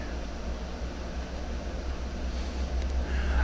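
A train in the Run8 train simulator rumbles steadily as it pulls in, a low continuous rolling drone with faint high squeals creeping in toward the end.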